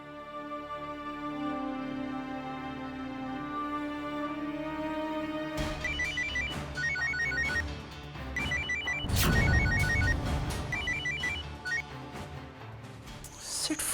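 A telephone rings unanswered in a TV drama scene, bursts of repeated bell-like trills sounding several times over a music score, with a loud swell in the middle.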